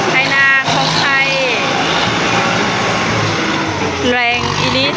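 A tractor hired to clear farmland in rural Laos runs with a loud, steady engine rumble close by, while people talk over it throughout.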